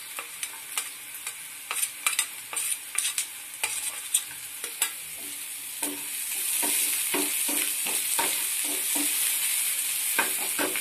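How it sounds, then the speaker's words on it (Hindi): Crushed ginger and green chili stirred in hot oil in a pan, a steady frying sizzle broken by repeated scraping stirs, with the hiss swelling louder and denser in the later part; nobody talks. "अदरक का जो कूच के रखी हूँ उसको डालती हूँ, चला लेती हूँ।"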